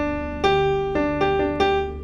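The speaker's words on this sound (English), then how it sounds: "That's what a perfect fourth sounds like." A perfect fourth interval, like the opening of Here Comes the Bride, played on a sustained keyboard-like instrument: four clear notes struck in sequence, close and moderately loud, with no talking.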